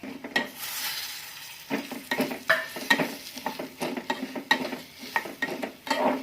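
Bhagar for kheer being roasted with cashews and almonds in a pan, with repeated scraping stirs and soft sizzling as the spoon knocks against the metal in an uneven rhythm.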